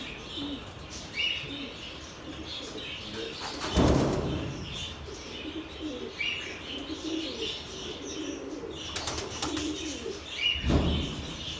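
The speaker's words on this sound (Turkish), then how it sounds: "Dün kuşlarımızı yemleyelim dedik." Tumbler pigeons are fed in a loft, cooing softly and chirping nearby, with two loud bursts of wing flapping partway through.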